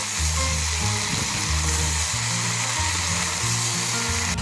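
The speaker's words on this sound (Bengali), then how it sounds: "সবজিগুলো হালকা ভাজা করে নেওয়া হবে" Vegetables sizzling lightly in a pan with turmeric and salt being stirred in, a steady close hiss running throughout with low background hum and no talking.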